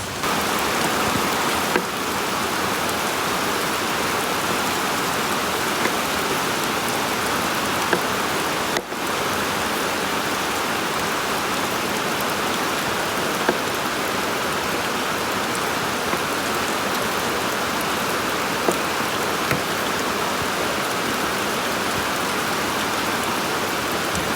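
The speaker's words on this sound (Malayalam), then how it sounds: "രക്ഷയില്ലാത്ത മഴയാണ് സംഭവം ട്രിവാണ്ടത്ത് ഇപ്പോൾ നടന്നുകൊണ്ടിരിക്കുന്നത്" Heavy rain pours down in Trivandrum as a dense, unbroken hiss of drops striking surfaces, loud and constant throughout with no voices.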